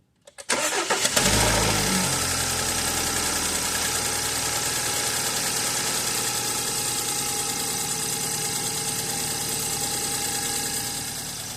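A 2013 BMW 528 with the N20 engine and a returning misfire cranks and fires up, then settles into a loud, steady idle with a faint uneven knock, close by and with no voices.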